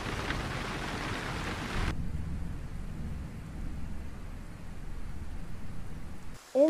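Rain falls steadily with a deep rolling rumble of thunder, loud at first before fading into a quieter patter, then ending in a sudden sharp noise.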